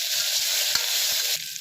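Onions fry with ginger garlic paste in a pan for a vegetarian curry, a steady hiss of sizzling oil broken by a few soft stirring scrapes and knocks, close and continuous with no talk.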